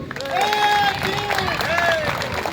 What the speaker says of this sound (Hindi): जोरदार तालियां एक बार मैं कुंजाम जी के लिए